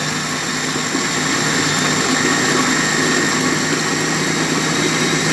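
A food processor whirs steadily, blending homemade cat food of liver, rice and water into a mash; the motor drones loud and unbroken throughout with no talking.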